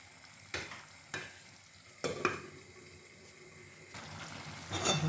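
Tomato paste frying in a pan while being stirred, with a low continuous sizzle broken by several sharp scraping and clinking strokes of a utensil against the pan, close and fairly quiet.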